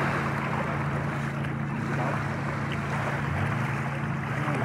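Ocean waves and surf at Green Point Beach, a continuous rushing wash with wind noise, loud and close, with no talk over it.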